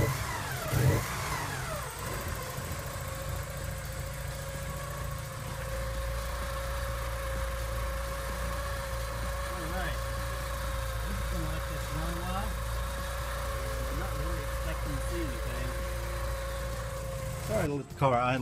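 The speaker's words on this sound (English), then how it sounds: "I let the car idle until the fans came on, which took about 10 to 15 minutes." A 1984 Porsche 944 idles steadily nearby after a short rev at the start, its even engine hum and drone holding for a long stretch before briefly changing near the end.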